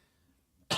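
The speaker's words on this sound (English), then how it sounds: "one day this cough will be gone" A single short cough bursts out close to the microphone at the end, after a quiet stretch.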